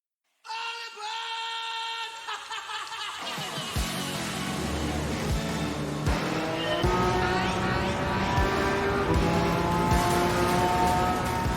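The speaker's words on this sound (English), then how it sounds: "As the race begins, the little Beetle springs into life, and at least if anything, it seems to have the power to compete." Engine-swapped VW Beetle race car in Gran Turismo 7 launching at a race start, loud engine revs climbing through gears with other cars roaring around it, tires squealing as the pack accelerates.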